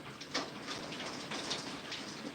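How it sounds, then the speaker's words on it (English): A hailstorm comes through a phone line as a faint, continuous rushing patter with a few slightly sharper hits, muffled and steady, with no one speaking. "It looks like we're having a hailstorm or something right now."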